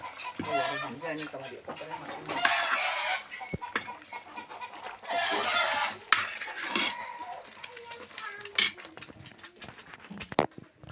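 Chickens cluck in bursts nearby while a person talks, with occasional clinks and knocks in between.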